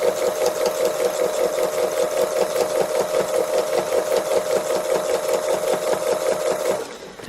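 A sewing machine doing free motion embroidery on a Raggedy Ruff cow appliqué runs close and loud with a steady rapid stitching rhythm for nearly the whole stretch, then slows and stops near the end.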